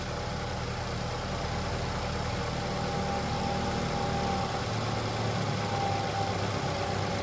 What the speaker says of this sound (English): And this is cold start. Engine is completely cold.